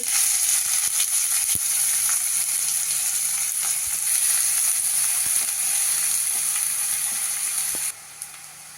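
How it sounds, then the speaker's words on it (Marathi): Chopped onion goes into hot oil and sizzles in a loud, continuous hiss with scattered crackles and pops, and the sound drops away near the end. "तेल तापलेलं आहे कांदा घालते पहिल्यांदी"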